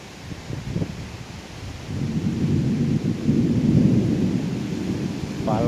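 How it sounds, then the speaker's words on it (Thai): Low rumbling thunder rolls in the distance in Bang Khonthi, Samut Songkhram, Thailand, building and swelling over several seconds with a faint rustle of wind and rain. "ฟ้าร้องจริง"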